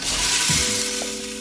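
Beef chunks searing hard in a hot pan for birria give a steady, close frying sizzle with a brief stirring clatter partway through, no voices.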